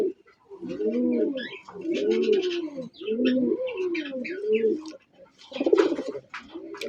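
A domestic gola pigeon coos repeatedly and close by, a series of low rolling throaty calls in steady phrases with brief gaps between them.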